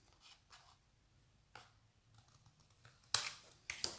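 Scissors trimming the back of a small rhinestone craft piece, a few faint snips and clicks spread out, ending in two sharper, louder cuts close by.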